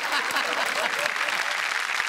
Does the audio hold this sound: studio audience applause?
yes